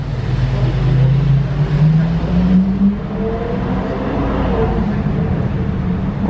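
A sports car engine, heard from the roadside near a Brabus G-Class and Lamborghini Aventador SVJ gathering, drones steadily with a rising then falling tone, loud and continuous, amid street rumble.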